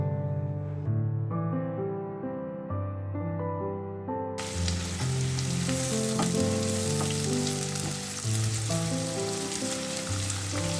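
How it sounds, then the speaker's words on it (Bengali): Onions fry in hot mustard oil in a kadai, a continuous crackling sizzle that swells partway through, with melodic background music playing over it. "তেলটা গরম হলে আমি পেঁয়াজগুলো ভেজে নিচ্ছি"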